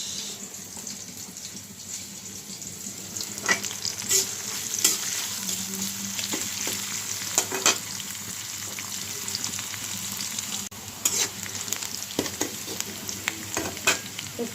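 Onions and green chilies frying in oil over full gas, a steady close sizzle broken by occasional stirring clinks and scrapes.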